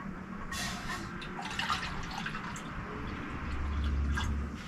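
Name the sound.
water poured into camp stove pot for cleaning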